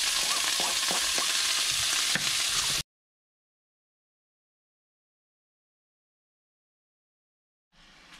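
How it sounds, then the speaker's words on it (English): Turkey bacon sizzles and crackles loudly in a hot pan for about three seconds, then cuts abruptly to silence before a brief return of sound at the very end. "Now we're just going to add the turkey bacon into the pan and cook for 2 minutes."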